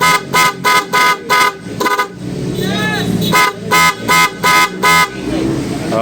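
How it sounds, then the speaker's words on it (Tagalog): A loud aftermarket horn on a Honda ADV160 motorcycle honks in a rapid series of short, evenly spaced blasts, pauses briefly, then repeats the quick blasts again, close and piercing. "gumagana na yung wire ng ating loud horn"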